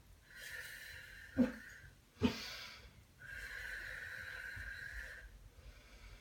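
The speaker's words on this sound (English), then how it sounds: "I try to exaggerate my breathing when I'm not talking" Exaggerated breathing during a postnatal pelvic floor and core exercise, a slow rhythm of drawn-out breaths with two sharper, louder bursts, close and alone.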